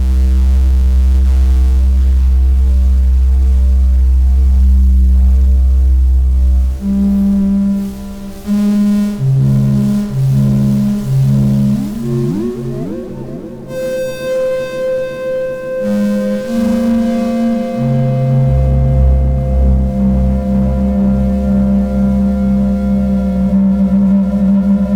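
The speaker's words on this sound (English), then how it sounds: "a very noisy delay and a distortion" A very noisy delay and distortion effect produces loud, droning electronic tones with buzzing harmonics and repeating echoes. Pitches shift and sweep partway through, then settle into a sustained hum.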